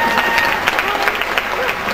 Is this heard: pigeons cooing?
no